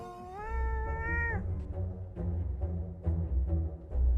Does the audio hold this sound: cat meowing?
yes